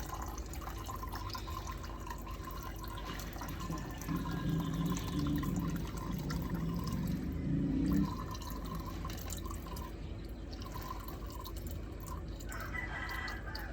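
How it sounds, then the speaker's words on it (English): Water drips and trickles out of a LECA clay-pebble plant pot being flushed of old water, a close, soft run of drops with a brief fuller splashing stretch midway. "just to make sure that you have all of the old water out, so just gonna drip it like this."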